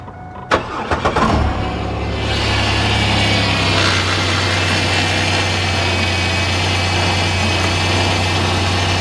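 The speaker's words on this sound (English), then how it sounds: "I think that's a cheap belt because it's making a little noise" A car engine cranks and starts, then settles into a steady idle with a faint whine from a new but cheap, noisy drive belt, close and continuous with no talk.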